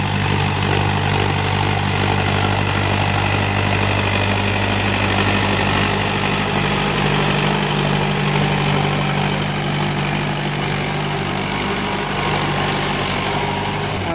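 A tractor engine runs steadily in a farm field, a loud, continuous low drone with a steady rumble that holds throughout without pause, and no one speaks.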